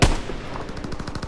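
Sniper rifle fire in a war video game: one sharp, loud shot right at the start, followed by a rapid string of fainter gunfire bursts.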